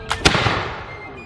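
A musket fires at a Yorktown Revolutionary War reenactment: one sharp, loud report nearby, preceded by a quick crack, then a long fading outdoor echo.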